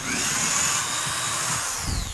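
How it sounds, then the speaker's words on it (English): A power drill with a half-inch bit bores into a pumpkin outdoors, a loud steady close whine that holds for the whole two seconds. "I think this is a half inch drill bit."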